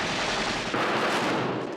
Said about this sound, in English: I hate machine guns.